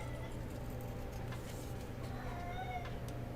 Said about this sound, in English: Can you guys hear the cat?